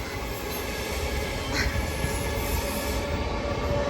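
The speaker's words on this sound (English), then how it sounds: "Train." A train passes along a street-side railway with a loud, steady rolling rumble and a faint wheel squeal, heard close up.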